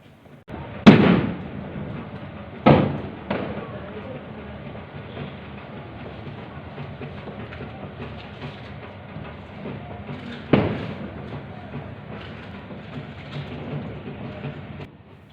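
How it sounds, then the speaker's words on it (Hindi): Diwali firecrackers burst outside near an isolation ward in Shimla: four separate sharp bangs, two close together early on and a lone one later, each echoing away over quiet background rumble. "यहाँ पे भी पटाखों की आवाज़ें गूंज रही"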